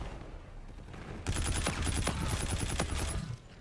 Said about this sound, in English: Yes, I just shoot the human being.